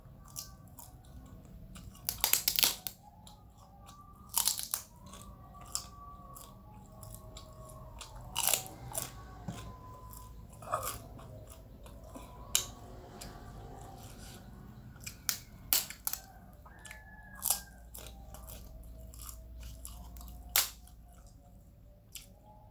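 Crisp vegetable fritters (bakwan sayur) are bitten and chewed up close, with a series of sharp crunchy bites spaced a few seconds apart over softer steady chewing, and no talking.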